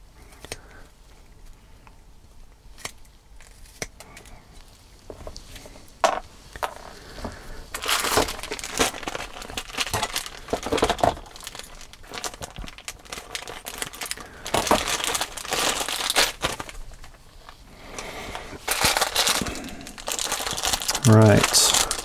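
A plastic parts bag from a Tamiya MF-01X RC rally car kit is opened, with loud crinkling and crumpling bursts that swell through most of the clip, close up, alongside some handling noise.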